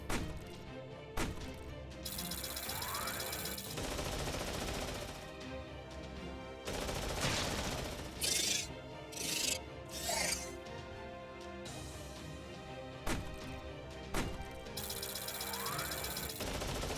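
Dense, loud gunfire from the Lamu guns in Fate/Grand Order, with rapid overlapping bursts and crashing impacts that keep up almost without pause, surging in several sharper volleys.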